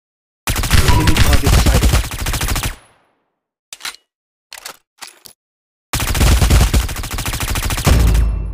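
Incoming bombardment gunfire in the Omega Legends video game: two long, loud bursts of rapid, crackling automatic fire separated by a gap holding a few short, sharp shots.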